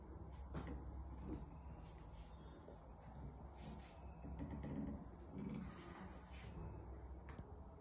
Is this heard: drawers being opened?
yes